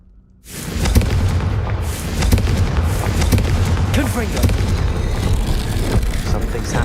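A Confringo blasting spell detonates in Hogwarts Legacy, opening with a sudden loud blast that becomes a dense, sustained roar of rumbling and crackling debris for several seconds.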